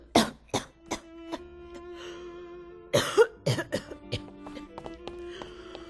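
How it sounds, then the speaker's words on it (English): A woman coughs repeatedly in irregular bursts, harsh and close, with throat-clearing sounds between fits, over faint sustained music in the background. "You're coughing so much you can barely stand up."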